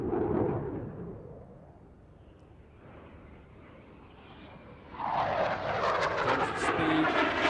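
A jet aircraft takes off at an airshow in full reheat with the afterburner lit, a low distant rumble that suddenly swells into a loud, roaring, crackling blast for the last few seconds.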